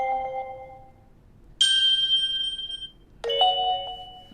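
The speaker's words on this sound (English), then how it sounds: "you can change the alert type, the ringtone, ring option." Alert ringtone from a Baseus T2 wireless anti-lost tracker: two bright electronic chime tones, each with a lingering ring, sounding close and clear over a faint background hum.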